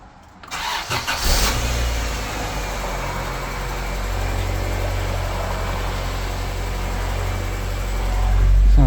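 An EF Honda Civic sedan engine is started after a timing belt repair. A short crank catches into a steady, close idle that swells slightly toward the end. Nobody speaks.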